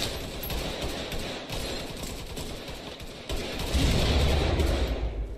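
Sound-effect gunfire in an audio roleplay of a firefight: a continuous, fairly faint crackle of automatic shots and distant bursts, thickening toward the end, with no talking.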